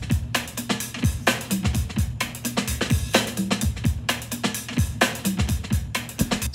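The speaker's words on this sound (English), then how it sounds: "here's an example of a song that started with a rhythmic source as inspiration, and it was actually a drum loop" A drum loop with a rhythmic, almost shuffling groove repeats punchy kicks and crisp snare and hi-hat hits in a steady looping pattern. It plays loud and up close, with no talking.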